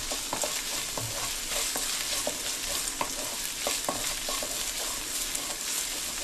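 Ginger stirred into a chicken and prawn stir fry, with a continuous sizzle in the pan and repeated sharp clicks and scrapes of the utensil, close and steady.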